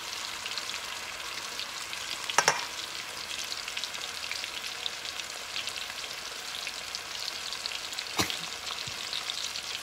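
A pork chop coated in cassava flour fries in a pan with a dense, even sizzle that holds steady throughout. Two brief sharp clicks break the sound, and nobody speaks.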